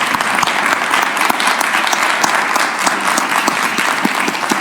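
A round of applause for a school board president at a school district board meeting: dense, steady clapping from a room of people, loud and continuous throughout with no talk over it.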